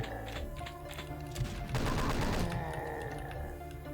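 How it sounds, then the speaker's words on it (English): Chaingunner enemies in Doom 2 open fire with chainguns, a dense rapid rattle of gunfire that swells to a loud burst midway, mixed with other game sounds. "These chain gunners will reveal themselves."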